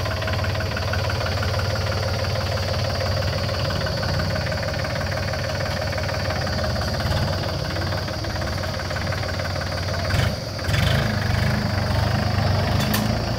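Small Mahindra 365 4x4 tractor engine running steadily with a rough, knocking diesel throb, close and continuous, with a brief clunk and slight surge near the end.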